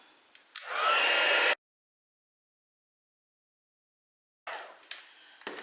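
A handheld embossing heat tool for heat setting blows a steady, loud whooshing hum for about a second, cuts off to silence, then starts up again near the end.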